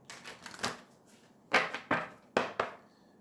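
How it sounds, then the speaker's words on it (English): Tarot cards being shuffled by hand in a series of crisp riffling bursts, a softer run followed by three sharper, louder ones with short pauses between, close up and with no talking. "Let me just give these a good shuffle."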